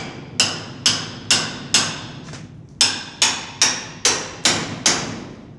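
A wrench repeatedly striking the hinges of an Asgard Annexe metal bike storage unit: about ten sharp, ringing metallic blows at a steady pace, close and loud, with a short pause after the fourth.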